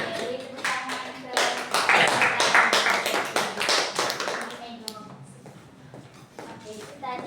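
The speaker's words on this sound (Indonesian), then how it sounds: "beri tepuk tangan" A classroom of students clapping their hands during a micro-teaching lesson, a dense burst of applause lasting a few seconds close by, then fading as talking voices resume.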